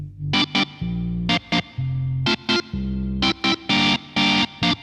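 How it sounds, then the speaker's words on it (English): An English-style combo organ voice on a Yamaha YC88 stage keyboard plays held chords in a repeating rhythm, cut through by sharp percussive hits, loud and close, with no voices. "Combo organ, more of an English style."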